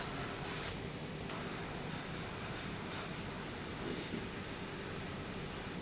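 A Gundam Marker airbrush sprays paint with the trigger fully pressed, a steady close hiss of compressed air that runs unbroken for several seconds.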